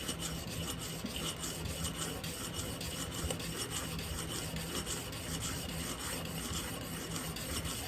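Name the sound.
sharpening viola rib scraper on 1000 grit stone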